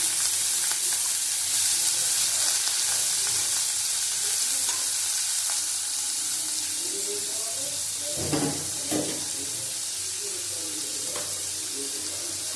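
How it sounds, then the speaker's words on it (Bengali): Chopped onions frying in hot oil in a kadai, a steady close sizzle with occasional louder stirring scrapes and crackles throughout. "তেল দিয়ে দিচ্ছি, কড়াই বসিয়ে দিয়েছি, পেঁয়াজ দিয়ে দিলাম।"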